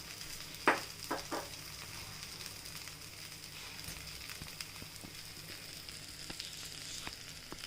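Oil sizzles quietly around flipped kuli paniyaram in a dimpled paniyaram pan, a soft steady frying hiss with a few brief sharp crackles near the start.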